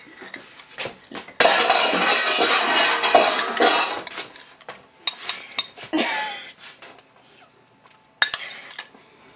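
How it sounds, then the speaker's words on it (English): A spoon scrapes and clinks against a pan while cake filling is spooned on top, with a long, loud stretch of metallic scraping followed by scattered knocks and clatters, then a final sharp clink. "Then we're going to spoon the rest of that delicious filling right on top"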